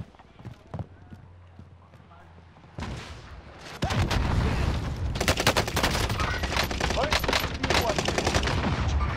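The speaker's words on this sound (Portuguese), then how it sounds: "Estão atirando em mim!" Rapid gunfire bursts in a multiplayer shooter game, loud and dense from about four seconds onward, with softer hoof-like clopping and scattered shots early; a player talks over the action.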